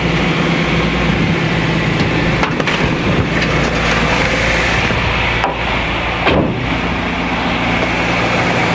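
A Renault Trafic van engine held at about 1800 rpm, heard from outside as a continuous loud rumbling hum with a steady low drone and occasional brief rattles and knocks, no speech over it.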